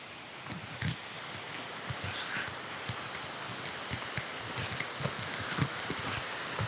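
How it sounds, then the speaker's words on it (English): A nearby waterfall at a forest campsite roars as a constant loud broadband wash, steady throughout, with occasional faint knocks and rustles over it. "it's so loud because the waterfall's right here"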